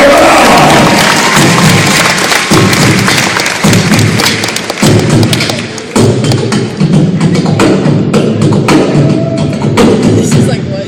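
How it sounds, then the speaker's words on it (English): A loud crowd at a live show applauds and cheers for a volunteer from the front row, dense clapping mixed with shouts and heavy thumps, sustained and close throughout. "Let's give her a huge round of applause."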